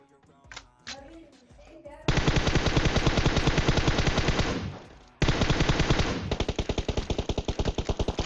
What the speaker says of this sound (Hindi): इस बार मेरे ख्याल से भाई बैरल चलाते हैं M762, लेकिन इस बार मेरा गलती से हेडशॉट लग जाता है